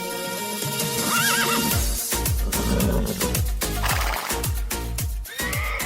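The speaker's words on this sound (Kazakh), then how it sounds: "Атакеев Исламбектин Жылдыз деген тайы." A young colt at a tai baige horse race in Talas, Kyrgyzstan, lets out a loud whinny early on, set against a dense, rhythmic backdrop that pulses steadily throughout.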